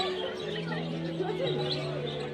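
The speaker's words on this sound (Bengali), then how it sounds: "বদ্রি পাখি।" Pet budgerigars chirp and warble continuously, close and moderately loud, a busy mix of overlapping short calls and trills over a faint steady hum.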